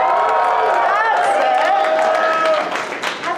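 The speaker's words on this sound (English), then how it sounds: "Let's give a whoop and a cheer." An audience at Game On Expo, a gaming convention, whoops and cheers loudly, with many overlapping voices and some clapping that continue across the moment and thin out slightly at the end.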